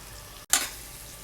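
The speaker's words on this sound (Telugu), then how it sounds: "నెక్స్ట్ తాలింపు అంతా కూడా గోల్డ్ కలర్లోకి వచ్చేంత వరకు ఫ్రై చేసుకోవాలండి" Tempering spices with hing and fenugreek powder hitting hot oil for mattikaya vankaya pappu, a sudden sharp sizzle burst after a brief gap that quickly fades, close and alone.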